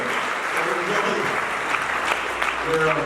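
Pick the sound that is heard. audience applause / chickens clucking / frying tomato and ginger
audience applause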